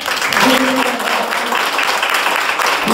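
An audience applauds at the closing of an art exhibition, with brisk clapping from a small crowd close by and a voice briefly rising over it.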